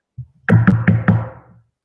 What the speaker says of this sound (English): That one was a knock.